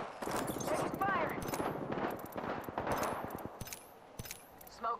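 Rapid automatic gunfire rattles in bursts during an Apex Legends Season 9 match, mixed with sharp single shots and pinging impacts, while a voice speaks over the action.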